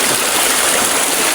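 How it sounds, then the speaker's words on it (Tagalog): A stream pours at a waterfall at an old tourist spot, a dense, steady rush of water filling the whole sound, loud and close with no pauses. "nandito nga pala ako sa falls nito"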